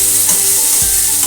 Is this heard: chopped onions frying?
yes